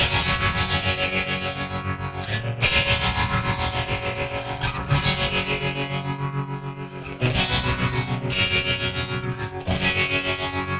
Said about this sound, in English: there's a phaser and a tremolo going at the same time, and it sounds really good